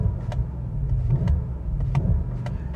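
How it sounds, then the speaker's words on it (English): Bentley Continental GT Azure V8 exhaust in Sport mode with the baffle opened, a steady burly low rumble idling close by with no talk, a few faint clicks over it. "you can really hear the baffle opens up in the exhaust system"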